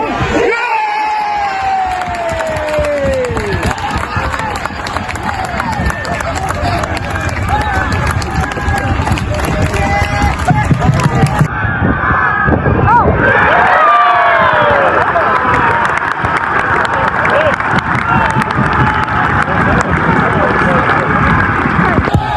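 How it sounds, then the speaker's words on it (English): Large football crowd of over a thousand roaring and cheering at Lowestoft Town v Weston Super Mare, a dense, sustained wall of noise that swells louder partway through, with shouts and whoops rising over the steady din. "this roar from the crowd"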